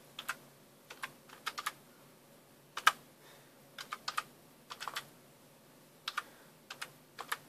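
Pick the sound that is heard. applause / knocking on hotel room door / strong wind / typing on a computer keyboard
typing on a computer keyboard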